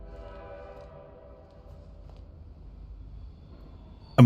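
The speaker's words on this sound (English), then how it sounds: "I'm waiting for the train to almost get here and then Bendy start attacking." A train arrives in the Bendy and the Dark Revival video game, a steady low rumble with a drawn-out horn tone fading over a few seconds, ending in a sudden loud burst.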